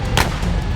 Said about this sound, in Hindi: कौन गोली चला रहा है?